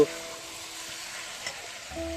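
A steady, soft sizzle of chicken dry frying in a pan without water, with a low hum running underneath throughout.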